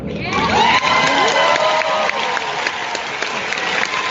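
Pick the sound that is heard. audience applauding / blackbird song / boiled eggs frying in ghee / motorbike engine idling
audience applauding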